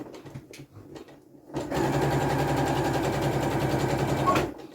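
After some quiet handling noises, a sewing machine stitches fabric with a rapid, even mechanical whir that runs for about three seconds and then stops.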